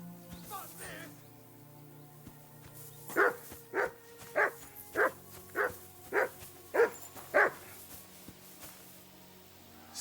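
In the video game Kingdom Come: Deliverance II, a dog gives a string of about eight evenly spaced, loud barks close by, with quiet game ambience before and after.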